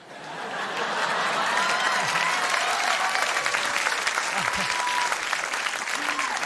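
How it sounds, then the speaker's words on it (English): A late-night TV studio audience applauds a stand-up comedy set on David Letterman's show, giving a dense, steady wave of clapping with light cheering and chuckles that holds close and loud for the whole stretch. "You guys are so generous with the applause, man."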